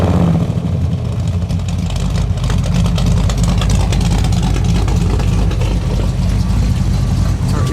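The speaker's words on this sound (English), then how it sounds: "go ahead and rev it up just a little bit" A 1968 Chevrolet Chevelle SS engine runs loud and steady for several seconds, a constant low rumble with no clear separate rev peaks, heard close and alone.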